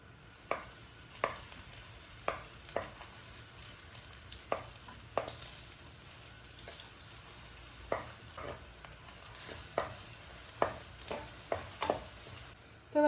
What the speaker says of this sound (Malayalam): ഈ എണ്ണ ചൂടായി വരുമ്പോൾ നമുക്ക് ഇതിലേക്ക് കുറച്ച് വെളുത്തുള്ളി ചതച്ചത് ചേർത്ത് കൊടുക്കാം